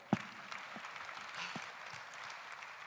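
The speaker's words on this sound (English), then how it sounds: "Please show your approval with a round of applause." Faint, scattered applause from an audience at a fiftieth-anniversary event, with one sharp nearby clap at the start followed by thin, distant clapping that trails on quietly.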